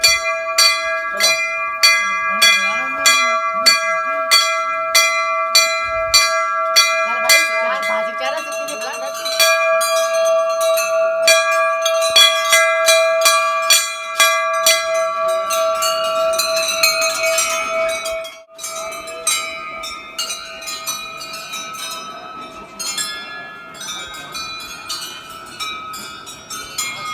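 Dozens of bells hung along the path to Tarkeshwar Mahadev temple near Lansdowne, Pauri Garhwal, Uttarakhand ring almost constantly, with bright metallic clangs overlapping in quick, irregular strikes that sustain a shimmering wash throughout.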